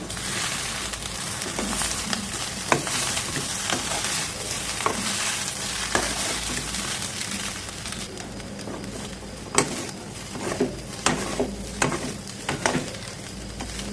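Egg rice stirred and fried in a pan, a continuous close sizzle broken by repeated sharp spatula scrapes and knocks, growing busier toward the end, with faint bird cooing in the background.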